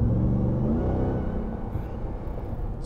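A supercharged 2021 RAM 1500 TRX pickup rumbles and revs, its deep exhaust note swelling loud and close before settling into a steady, throbbing idle with no talking.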